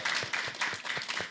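Applause from an audience honoring panelists at a discussion event, steady crowd clapping with individual claps standing out in a fairly even rhythm, no talking heard.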